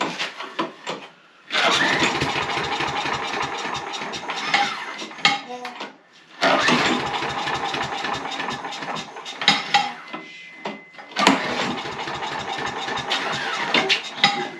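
A Husqvarna 625 HWT tiller's small engine is pull-started repeatedly, sputtering and revving in rough bursts with rattling, clanking noise between attempts before catching briefly.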